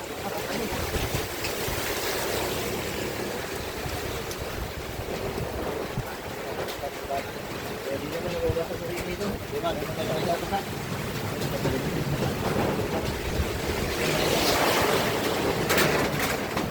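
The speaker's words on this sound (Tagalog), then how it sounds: "Oh, lakas na lang hangin na ito." Strong wind roars steadily across the microphone with rushing water and boat noise beneath, while voices talk intermittently over the gusts.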